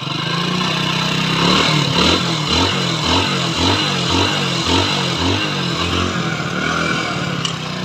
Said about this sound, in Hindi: और अब आप देख सकते हैं बहुत ही बेस्ट आवाज़ है इंजन का। और थोड़ा हम इसलेटर भी मार के दिखा देते हैं।